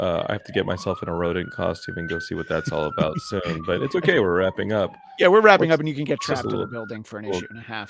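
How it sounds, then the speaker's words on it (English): A police siren wailing outside, a long rising and falling tone audible steadily beneath close conversation between two men throughout. "that alarm right there. I'm sorry about the sirens."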